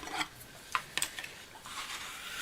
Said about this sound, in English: burnish that fold line so we get a good crisp fold there